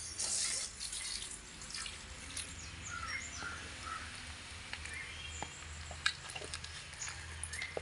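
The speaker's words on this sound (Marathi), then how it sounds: "मी यांना घालते पाणी." Water pours from a container onto a freshly seeded morning glory pot, a soft continuous trickle and splash, fairly quiet, with crows cawing faintly in the background.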